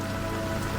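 Steady rain falls on a surface along a canal cruise, a dense, even hiss of drops close by with no voices.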